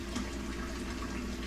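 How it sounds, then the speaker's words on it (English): Hot water splashes faintly into a pot to make brine for homemade hamburger pickles, a soft, continuous liquid pour lasting a moment. "we're putting hot water in here, folks, because the water's already hot"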